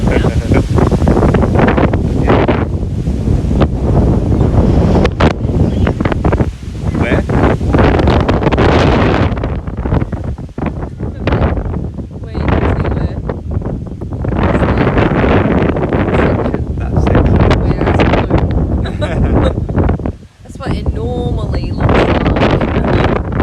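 Strong wind buffets the microphone on Hamilton Island, making loud, continuous rumbling gusts that rise and fall throughout, with voices talking intermittently beneath the roar.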